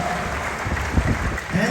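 Scattered applause rises and falls at a morning company second-anniversary event, a dense wash of hand claps with voices mixed in.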